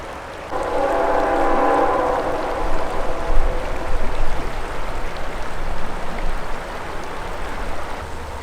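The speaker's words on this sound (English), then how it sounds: "There's a train coming over here. You can hear it. It's coming in." An approaching train beside a turquoise river in Alberta, a low broad rumble with a steady horn-like harmonic tone at the start, growing rough and continuous over the rushing water.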